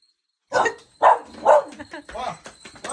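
A dog yips and barks in quick bursts, three sharp close barks followed by softer whimpering vocalizations, with a person talking over it.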